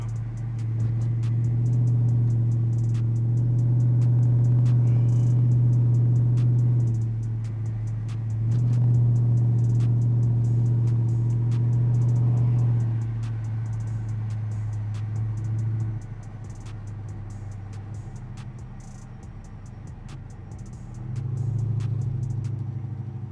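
A supercharged Chrysler 300C with a catless three-inch X-pipe exhaust drives along, a deep steady engine drone rising and falling in swells as it cruises and eases off, close and loud with no talk.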